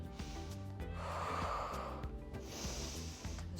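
Deep breaths during a standing mobility exercise, a long inhale and exhale close to the microphone under steady background music.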